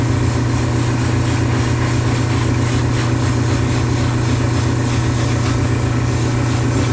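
An airbrush lays a light first coat of paint on a 1/72 scale Jagd Doga model kit, giving a steady continuous hiss with a low mechanical hum, likely from the compressor, running the whole time with no talk.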